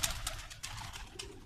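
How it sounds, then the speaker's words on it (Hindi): Pigeons shuffle and flutter nearby, with short bursts of wing noise and faint cooing against a quiet background. "ये देखें मेरे ये सारे नए कबूतर थे"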